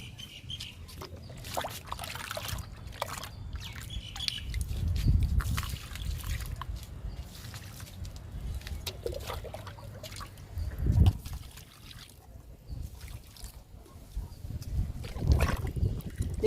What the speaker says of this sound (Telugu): అందుకని లిక్విడ్స్ ఇస్తున్నాను మొక్కలకి.